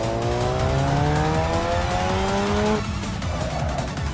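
Car tires squeal with understeer through hairpin turns in the Assetto Corsa racing game, mixed with a steadily rising engine note that drops abruptly near the end, loud and continuous with no talking.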